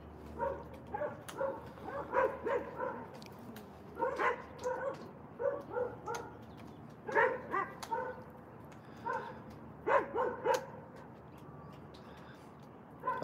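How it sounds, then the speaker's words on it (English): Several dogs bark and yip excitedly at wild cockatoos on a cold morning, in repeated close bursts with short pauses between, and faint bird calls underneath. "the doggies can see these guys and it's driving them crazy"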